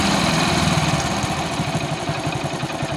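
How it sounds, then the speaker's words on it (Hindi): A Hero motorcycle engine idles at low RPM, a steady, close, continuous low chugging rumble with an even pulsing rhythm and no talk over it. "आप अपने हिसाब से बाइक का आरपीएम कम कर लें और इतनी कम कर लें ताकि बाइक है दोस्तों बंद ना हो"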